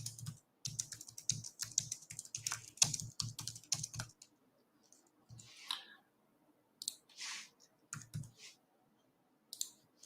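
Someone types a comment on a computer keyboard, with rapid clustered key clicks at first, then sparser taps and pauses, close and quiet with no talking.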